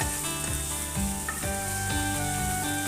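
Water lily stems frying hard in oil over a high flame, a dense, steady sizzle that runs loud and close throughout with faint clatter beneath.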